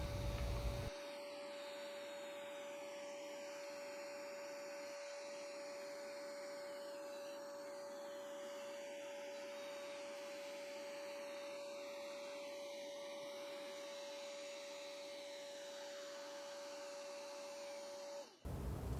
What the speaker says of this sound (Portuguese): Então aspira, separa todas as partículas e apenas a poeira fina é que vai para o filtro do aspirador.